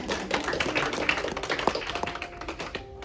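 Scattered audience clapping at the end of a health talk, fairly faint and thin, a handful of people clapping unevenly before it fades out.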